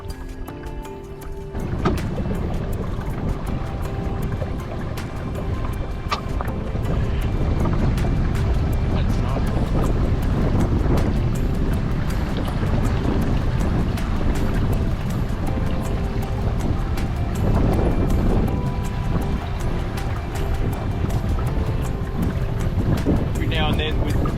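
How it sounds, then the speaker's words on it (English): Strong wind gusts roar continuously across the microphone on the Pieman River in Tasmania, with gusty buffeting and a steady rushing wash throughout. "Gusts come down the river, they're pretty fluky, they go all over the place"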